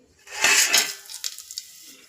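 Whole spices go into hot oil in a pan: rock salt, three cardamom pods, bay leaf, cinnamon, cloves, star anise and marathi moggu, for an avarekalu pulao. A bright brief sizzle with metal clinks is followed by lighter scraping stirs.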